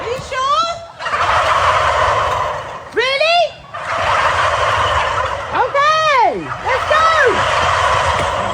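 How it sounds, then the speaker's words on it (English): Turkeys gobble on a farm in several loud, close bursts of warbling calls, separated by short gaps, over a low background rumble. "Oh, look at this pretty turkey girl."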